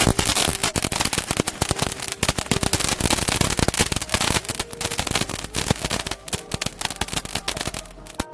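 A fire gun firework being set off, a long rapid volley of sharp crackling bangs that pop continuously and loudly for the whole stretch, with no talk.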